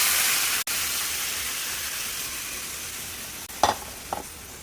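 Mutton stock goes into a pan of fried spices and potatoes for an achari mutton dish, a steady broad hiss and sizzle throughout, with a brief splash and a couple of clinks near the end.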